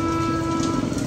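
Steady, dense rain falls close by, a continuous even patter with no pauses.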